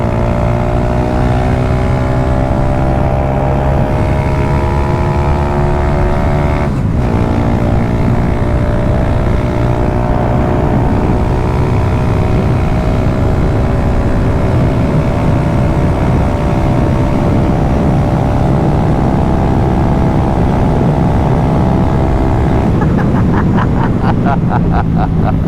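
A 16HP drag bike engine drones loudly while riding on a commute, its pitch climbing then holding steady at speed before dropping into a rapid burst of popping blips on deceleration.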